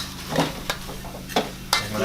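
Small ching chang fish frying in a hot pan, a steady close sizzle broken by several sharp bursts of spattering oil or stirring about every half second, with no talking.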